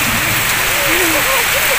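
Rain falling in a dense, steady hiss that fills the scene at close range, with a faint voice-like murmur rising briefly beneath it.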